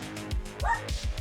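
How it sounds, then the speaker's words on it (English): Several dogs bark and yip in quick bursts, loud and close, with a short whining yelp in the middle; the barks overlap in an uneven rhythm with no talking. "my dogs are barking."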